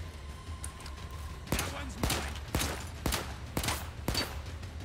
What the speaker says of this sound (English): They're shooting at us. Heavy incoming.